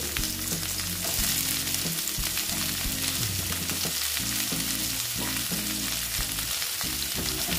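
Pieces of pointed gourd (potol) fry in hot oil with a loud, continuous sizzle and occasional stirring scrapes, while background music plays beneath.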